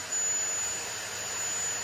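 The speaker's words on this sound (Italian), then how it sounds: "c'è un po' di rumore, ma perché ho acceso un aspirapolvere apposta" A vacuum cleaner switched on indoors runs as a steady, loud broadband whoosh with a thin high whine, continuous throughout with no talk.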